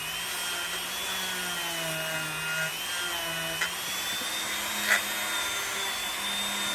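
A Dremel rotary tool polishes the case lugs of a 1953 Rolex Oysterdate Precision, a steady high whine held throughout at moderate level with faint pitch shifts and a couple of tiny clicks.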